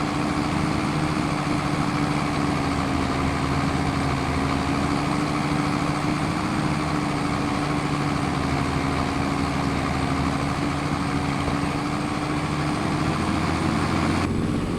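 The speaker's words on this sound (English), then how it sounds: "Very, very loud tractor." A very loud tractor engine in Farming Simulator 25 drones steadily and close up, a constant heavy low rumble with a whining tone that holds level throughout with no talk.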